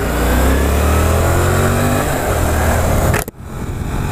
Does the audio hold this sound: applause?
no